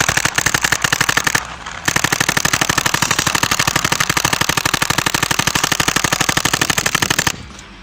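A Power VS3 paintball marker fires rapid automatic bursts, making loud, close, evenly spaced popping shots with a brief pause after the first string before a long continuous volley that stops near the end.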